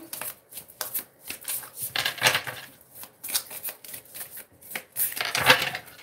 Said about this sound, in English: And so I am shuffling for the energy.